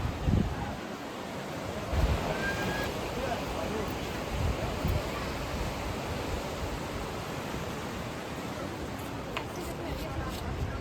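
The Bhagirathi river rushing at the Devprayag confluence makes a constant broad roar of turbulent water, loud and close throughout, with brief wind buffeting.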